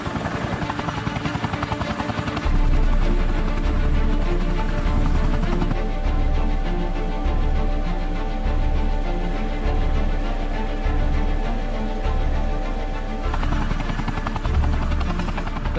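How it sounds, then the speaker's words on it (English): A helicopter flies close by in the Himalaya near base camp, its rotor thumping in a steady rapid beat over a loud engine whine, continuous throughout with no voices. "this has got to be the best place to fly in a helicopter."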